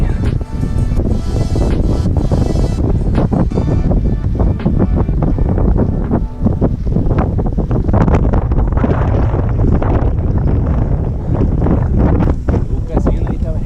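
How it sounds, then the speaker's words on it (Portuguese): Strong gusting wind buffets the microphone on a mountain bike trail near Juiz de Fora, a loud, continuous roar that fills the whole stretch without letup. "Muito vento, galera."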